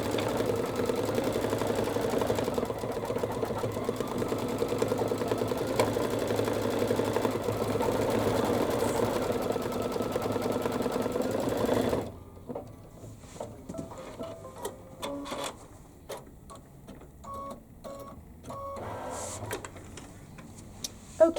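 An embroidery machine stitches a purple peacock head and outline, a fast steady mechanical whirring that runs evenly for about twelve seconds, then stops, leaving scattered quiet clicks and handling sounds.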